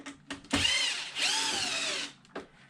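Power drill backing out body bolts on a Losi Super Baja Rey RC truck, a few short bursts followed by two longer whirring runs with rising and falling pitch, close by.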